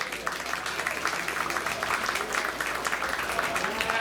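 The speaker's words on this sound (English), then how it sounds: "Let's go and give them all a round of applause." An audience at a county fair youth sheep show claps for the young exhibitors, producing steady, moderately loud applause throughout.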